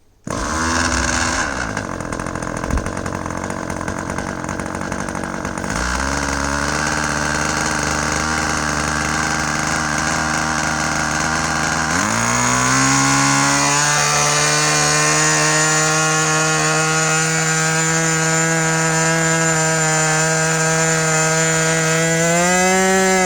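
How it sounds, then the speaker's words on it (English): A small, finely tuned model aircraft engine runs loud and steady, its buzzing pitch climbing in stages as it revs up and holds a high whine. "that's an example of an engine that's near perfectly tuned"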